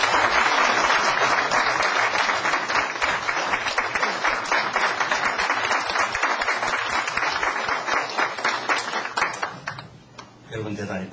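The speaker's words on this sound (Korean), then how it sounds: "박수로 맞이해 주시기 바랍니다" A lecture audience claps to welcome a speaker, steady full applause that holds for most of the stretch, then tapers off near the end as it gives way to a voice.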